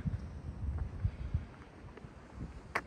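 Wind gusts on the Appalachian Trail buffet the microphone in low, uneven rumbles, with a few sharper thumps and no talking.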